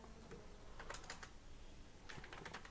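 Faint, scattered keystrokes on a computer keyboard as text is entered, a few soft clicks in small clusters over a low background hiss, with no speech.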